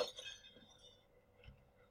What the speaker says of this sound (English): We need to break the glass.